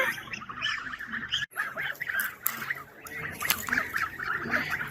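Geese honking and calling near a poultry keeper's yard, a busy overlapping chorus of nasal honks that runs steadily with a brief gap partway through and no speech.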